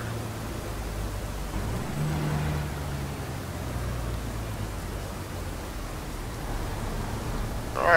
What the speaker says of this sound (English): The engine sounds nice with that turbo in there.